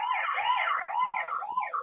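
A wailing emergency siren rises and falls continuously outdoors, loud and steady with a couple of brief dropouts, no voices over it.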